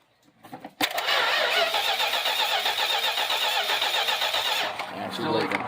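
A 1963 Plymouth wagon engine cranks briefly, then catches into a loud, close, steady running roar that holds for several seconds before easing off slightly at the end, with a voice heard at the start and close.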